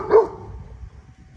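A single short, loud dog bark close by, beside a pool on a weekend getaway, fading into quiet low background rumble with no talking.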